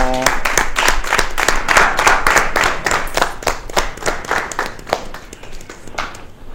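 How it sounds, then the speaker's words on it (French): A TV studio audience claps to welcome a guest onto a Saturday variety show, rapid dense clapping that is loud at first and thins out toward the end, with a brief tone at the start. "on va applaudir pour accueillir notre invitée aussi qui vient de nous rejoindre"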